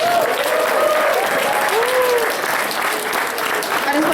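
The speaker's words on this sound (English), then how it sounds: "Round of applause." Sustained applause from an audience at a convention closing ceremony, a dense steady roar of clapping with a few high voices or whoops poking through for the full four seconds.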